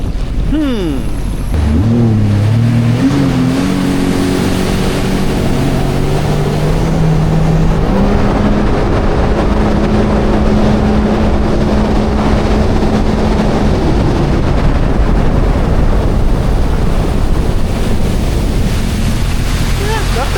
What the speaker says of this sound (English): with just basically a stock jet ski